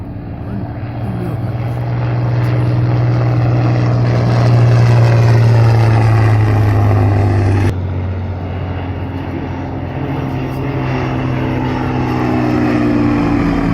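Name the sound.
vintage aircraft with Rolls-Royce Kestrel engine flying at airshow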